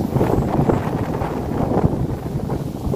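Strong wind blowing after a storm around a rural home, a steady close roar buffeting the microphone with rustling gusts for the whole stretch.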